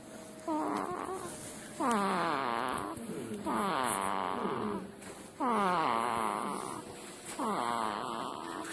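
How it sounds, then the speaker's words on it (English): A series of drawn-out, wavering voiced breaths, four or five in a row with short pauses between, like soft snoring up close. "baby snore."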